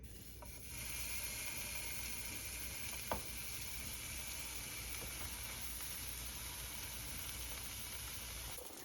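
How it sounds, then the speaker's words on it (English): Faint, continuous sizzling of Spam and sausages frying in a pan, a soft steady hiss with a single small pop partway through. "I'm going to start frying the Spam and the sausages."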